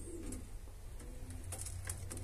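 Faint, soft cooing of pigeons at close range, low throaty calls repeating over light background noise.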